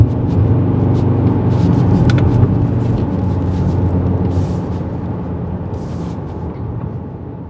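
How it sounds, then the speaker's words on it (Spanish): A 2023 Audi RS Q3 Sportback with a dual-clutch gearbox gives a deep, loud engine and exhaust rumble that runs steadily, then eases off slightly toward the end. "el bonito sonido de escape"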